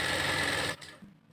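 Sewing machine running a stitch line on a blouse, a fast steady whirring hum close by that cuts off abruptly after under a second, followed by a faint thud.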